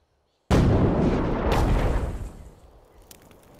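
Mortar fire in the video game Assassin's Creed Chronicles India: one sudden, heavy booming blast after a brief silence, close and loud, with a rumbling tail that fades over about three seconds.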